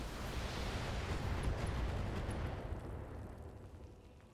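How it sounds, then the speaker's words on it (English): Weapons from a BattleTech mech alpha strike fire together in a video game, producing a dense, roaring wash of explosive blasts that swells for a few seconds and then gradually fades. "Commencing Alpha Strike."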